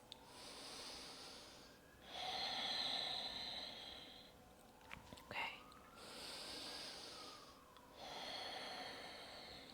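Slow, deep full-body breaths during a yoga flow, soft airy inhales and exhales close to the microphone, quiet and hissy, with a brief faint sniff midway.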